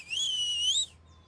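A person whistles one sustained, wavering high note for under a second, close and clear, then it cuts off into quiet room tone.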